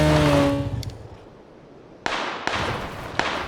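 Three sharp PUBG video-game gunshots crack out in the distance at uneven intervals, following a fading rumble and a brief tone at the start.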